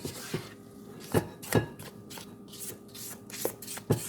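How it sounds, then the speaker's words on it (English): Cake batter for petit fours mixed by hand, with a spatula tapping and scraping a bowl in irregular soft knocks, close and fairly quiet, no speech. "Now I'm just going to finish mixing it by hand."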